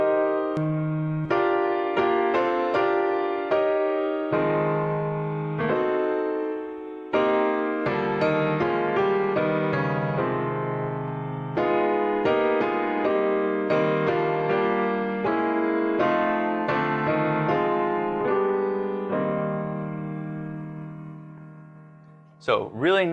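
Piano block chords playing a song in a big band style, a steady run of full struck chords ringing clearly on their own, ending with a brief different sound.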